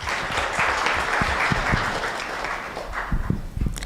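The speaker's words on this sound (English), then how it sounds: "So a warm round of applause to Dr. Bona." An audience at an anniversary gala applauds a speaker, giving a dense, sustained round of clapping from many hands that carries through the whole moment and starts to thin out near the end.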